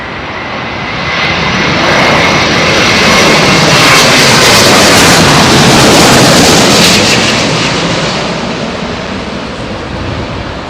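A heavy airliner landing in a southwesterly crosswind on runway 27L at London Heathrow, its engine roar loud and steady, swelling to a peak mid-way and then easing, with wind noise mixed in and no talk.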